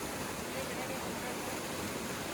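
The waterfall at the top of Bambarakanda in Sri Lanka, the country's highest, sends up a faint, steady broadband roar that holds unchanged throughout, with no other sound standing out.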